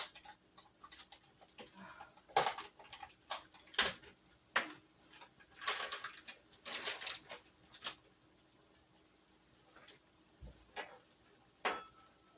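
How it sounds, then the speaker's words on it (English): Knife chopping mushrooms on a cutting board for a one-pot dinner, a series of sharp, uneven taps close by, bunched into quick runs with short pauses between, no talk. "I'm going to chop some mushrooms and put mushrooms in there"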